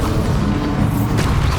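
A Bombarda blast spell in the video game Hogwarts Legacy, heard as a loud, dense, rumbling roar that fills the whole moment, with a sharper crack of debris near the end.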